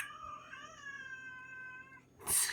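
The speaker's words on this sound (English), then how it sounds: "Don't mind my vocal cat." A house cat gives one long, drawn-out, wavering meow lasting about two seconds, close and clear in a quiet room, followed by a brief sharp rustle.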